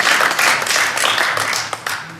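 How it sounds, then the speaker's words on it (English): An audience at a stand-up comedy show breaks into loud, close applause, a dense burst of clapping that fades slightly over about two seconds. "give yourself a round of applause and give Annie a round of applause for being so damn patient with that nonsense"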